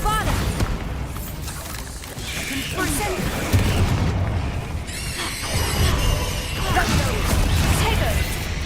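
A Bombarda blasting-spell explosion in the Hogwarts Legacy video game, heard among crashing, booming combat effects and magical whooshes, loud and close, with a voice speaking over it.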